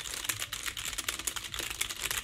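Rapid clacking keystrokes on an older ROCCAT computer keyboard, a noisy board, heard up close in a dense, steady stream of sharp clicks with no voice.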